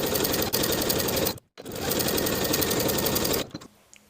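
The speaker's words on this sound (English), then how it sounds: "Fold your sleeves right sides together and pin the long edges. Sew at 3/8 of an inch." A sewing machine runs fast and loud, stitching the long sleeve seam of a fitted tie-front cardigan in two steady bursts with a short pause between them, then winds down at the end.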